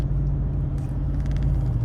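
Road traffic rumbles steadily and fairly loudly nearby, a continuous low drone of passing cars with a faint brighter swish partway through.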